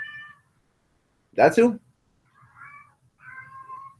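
A house cat meows twice in a quiet room, the second call drawn out, with a man's short spoken question between the meows.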